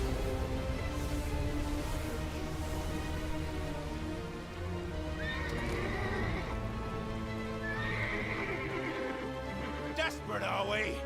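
A horse whinnies twice amid a busy Final Fantasy XVI game soundtrack of music and effects, fairly prominent but not loud.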